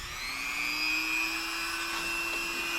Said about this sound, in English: I'm going to take a Dremel and grind this a little bit